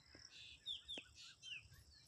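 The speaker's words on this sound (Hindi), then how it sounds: "वहाँ पे चिड़ियाँ भी चहचहा रही हैं" Small birds chirp at dusk outdoors, faint and distant, with a few thin high tweets scattered over quiet background.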